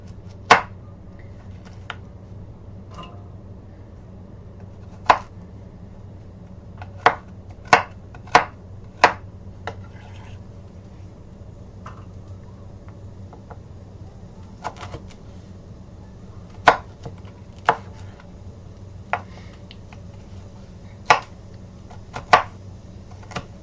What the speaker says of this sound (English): And I just chop them up into, you know, small pieces and stuff.